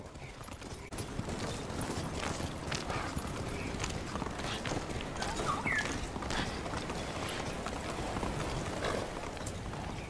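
Horse hooves galloping in the video game Ghost of Tsushima, a rapid continuous clip-clop rhythm close by, layered over steady wind and ambient game noise, with no talk.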